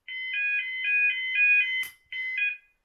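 Smoke alarm sounds its startup tone: a loud, steady series of pulsing electronic beeps, then a brief glitchy burst, a short gap and two more beeps, with no other sounds around it.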